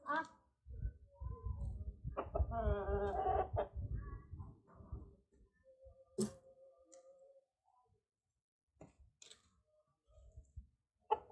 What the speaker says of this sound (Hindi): ये मेरी मुर्गियाँ अभी अंदर आ गई हैं